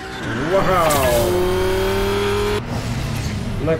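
A car in the Batman Telltale game revs hard and squeals its tires through a turn, the engine pitch climbing and then holding a steady whine before cutting off, with someone talking over it.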